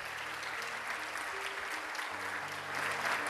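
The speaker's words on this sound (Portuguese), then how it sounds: "Aplauda o Senhor Jesus por essa palavra." Church congregation clapping during a sermon, a broad steady roar of many hands heard from a distance, with a low sustained organ-like tone humming beneath the clapping.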